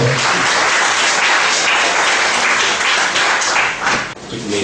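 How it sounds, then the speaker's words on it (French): An audience at an integration day event applauds a speaker coming onto the stage, loud dense clapping from a close crowd, steady throughout and dipping briefly just before the end. "Le conférencier que je vous demande de l'applaudir très fort."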